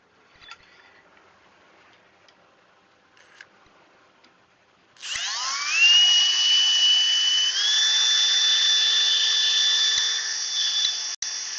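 After a few seconds of faint tapping, an electric sander starts up on wood in a workshop and runs with a loud, steady, high-pitched whir until the end.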